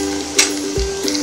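Garlic and ginger paste fries in hot oil in a pan, a steady close sizzle with a brief scrape of stirring and a soft clink of a utensil.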